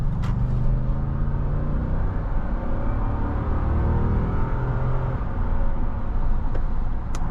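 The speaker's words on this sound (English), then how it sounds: "Lexus V8s tend to sound really, really good." A 2019 Lexus GX 460 with its V8 engine pulls away on the road, giving a steady, full-bodied rumble with a rising engine note heard from inside the vehicle. Faint clicks and road noise sit underneath.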